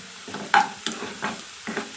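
Whole spices (cloves, a single cardamom pod, cinnamon and marathi moggu) fry with onion in a pan for a chicken masala, with four distinct stirring scrapes spaced about every half second over a soft, steady sizzle.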